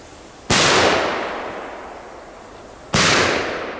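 Two Bison firecrackers explode outdoors, each a sharp, loud bang followed by a long echoing decay, about two and a half seconds apart, with no talk.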